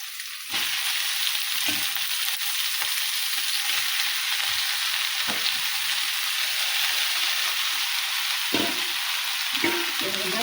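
Amaranth (rajgira) greens sizzle steadily in a hot pan for palya, a dense continuous frying hiss with soft scraping stirs and a few spatula knocks, close and alone with no voices.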